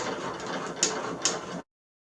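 A sewing machine running through fabric with adhesive on it, a steady mechanical whir with two sharp clicks, stopping abruptly after about a second and a half.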